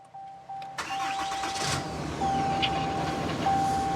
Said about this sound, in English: Love the sound of that Cummins on a cold start.